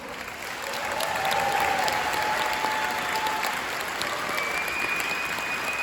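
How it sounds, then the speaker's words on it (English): Audience applause at a town hall meeting swells within the first second into sustained, even clapping from a sizeable crowd and holds steadily to the end, with no speech over it. "let's give a big round of applause to our host"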